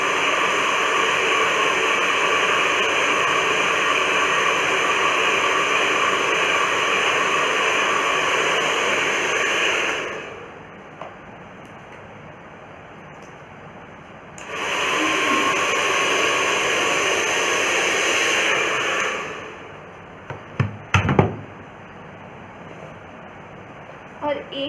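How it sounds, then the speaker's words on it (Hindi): A hair dryer roars steadily while straight blow-drying long hair with a paddle brush, cutting off around ten seconds, starting again a few seconds later, then stopping, followed by a few brief handling knocks and clicks. "इस पर स्ट्रेट ब्लो ड्राई करें आप पैडल ब्रश के साथ"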